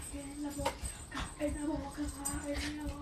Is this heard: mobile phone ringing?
no